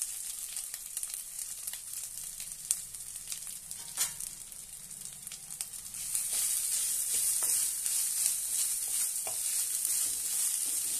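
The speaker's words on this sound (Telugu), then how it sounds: "ఈ కొబ్బరి కోరించాం కదా, ఇది ఫ్రై చేసుకోవాలి." Grated coconut sizzling as it fries in a pan for coconut rice, a steady soft crackling hiss that grows slightly louder and denser midway, with occasional stirring scrapes.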